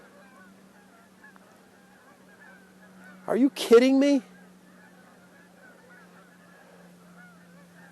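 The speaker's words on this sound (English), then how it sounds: "Look at these geese." Geese on a hard-frozen lake give a short burst of loud, nasal honks about a second long amid otherwise quiet ice-fishing surroundings, with a brief spoken remark nearby.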